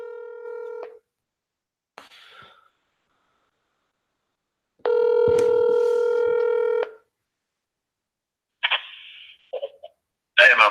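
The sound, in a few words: telephone dialing to call back a caller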